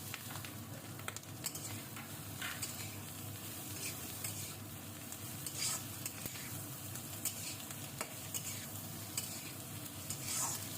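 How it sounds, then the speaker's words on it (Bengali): Vegetables and capsicum lightly fry in a pan for egg Maggi, a steady close sizzle with occasional soft stirring scrapes throughout. "এটাকে আমি হালকাভাবে ভেজে নেব। এবার এতে আমি দিয়ে দিচ্ছি ক্যাপসিকাম।"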